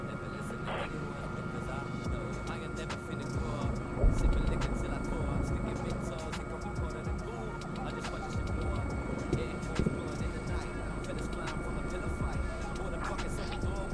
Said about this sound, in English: Enemy helicopter flying over airfield.